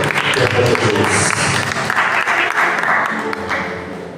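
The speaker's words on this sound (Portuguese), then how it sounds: "Vamos receber o Senhor do Senhor com as palmas" Joyful applause from a church congregation during an evangelical service welcoming the Lord, dense clapping filling the room with scattered voices mixed in, steady and loud throughout.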